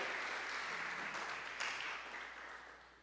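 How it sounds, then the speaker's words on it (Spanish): Applause from a church congregation during a Spanish-language sermon: a dense, steady wash of clapping that holds for a few seconds, then slowly fades. "Dale un fuerte aplauso a Dios"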